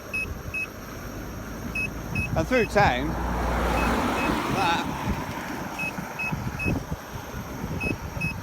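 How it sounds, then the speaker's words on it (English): A Gotway Monster 22-inch electric unicycle gives short, evenly spaced high warning beeps under hard acceleration, repeating over rushing wind and road noise, with a brief burst of speech partway through. "as soon as you give it some welly, it starts beeping"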